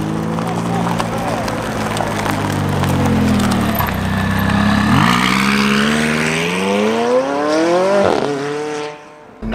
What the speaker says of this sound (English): Let's hear that McLaren.